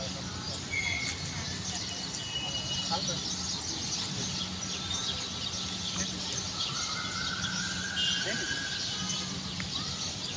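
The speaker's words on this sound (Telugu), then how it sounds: "కోకిల అరుస్తుంది" A distant Asian koel calls a few times with rising whistled notes over steady outdoor background noise in a park, with people talking nearby.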